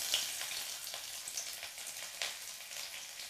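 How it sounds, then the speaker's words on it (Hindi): Garlic and ginger sizzle in hot mustard oil in a wok, with a steady, soft crackling hiss and a few sharper spits, heard alone with no voices. "इसको अच्छे से फ्राई कर लेंगे।"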